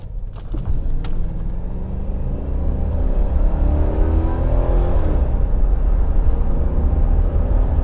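A big, heavy family car fitted with a Corvette engine accelerates, a loud, close engine rumble building steadily into a sustained roar.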